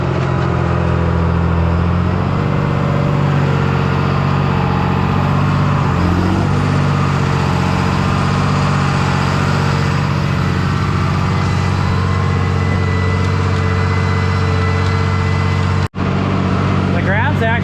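A salvaged tractor's engine labours steadily while working a field, a continuous loud low rumble pulling hard through the whole stretch, with a brief sharp dropout near the end.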